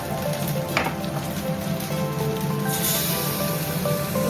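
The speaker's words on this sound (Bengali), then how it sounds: "পেঁয়াজ ভাজার মধ্যে আদা রসুন বাটা দিচ্ছি।" Ginger garlic paste sizzling into frying onions in a pan while cooking a Bengali chitol fish curry; a steady, continuous hiss with faint stirring clinks, close and alone without talk.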